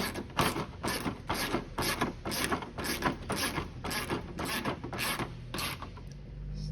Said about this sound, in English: We're going to use a half inch wrench and socket to tighten these down.